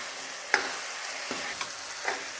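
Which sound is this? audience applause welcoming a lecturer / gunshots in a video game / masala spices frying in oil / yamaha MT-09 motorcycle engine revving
masala spices frying in oil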